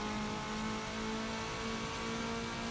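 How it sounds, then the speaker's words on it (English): Honda VTEC engine in Forza Motorsport 7 held at high revs, a steady loud mid-pitched whine with strong harmonic tones, continuous and alone for a few seconds. "VTEC's kicked in."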